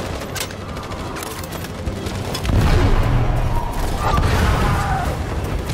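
A grenade blows up in the video game Detroit: Become Human, a sudden loud blast about halfway through that swells into a sustained rumbling roar over steady background noise.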